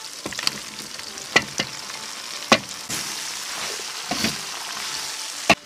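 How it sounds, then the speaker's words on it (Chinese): Sheep offal stir-fried in a hot pot with dried chillies, a steady sizzle broken by several sharp scraping strokes of the spatula, close and loud, with no talking. "翻炒一会儿"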